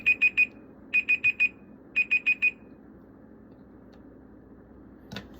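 Lab timer alarm going off at three minutes during a moles and mass experiment, three bursts of rapid high beeps in groups of three or four, loud and close over faint room noise, with a small click afterward.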